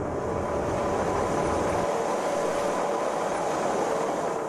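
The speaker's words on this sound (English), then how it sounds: "while I ratchet up on the cogwheel train" A cogwheel train grinds up Mount Pilatus near Lucerne, Switzerland, a loud, steady mechanical rumble with a constant whine, the low roar easing partway through.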